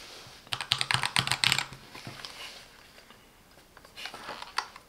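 Fingers type on a MelGeek MojoPad, a transparent plastic mechanical numpad, producing a quick burst of crisp clacky keystrokes close up, followed by a pause and a few more scattered key presses.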